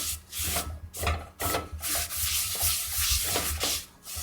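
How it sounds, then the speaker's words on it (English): A pan being scraped clean after boiling water in it at an off-grid cabin, giving repeated rough rubbing strokes in bursts with short pauses, close and alone. "Scrape it real good."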